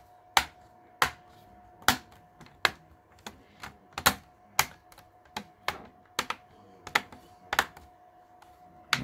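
An HP Pavilion 15 laptop keyboard is pressed back into its bay, bevel first, giving about fifteen sharp, close plastic clicks and snaps at an uneven pace, with no talking.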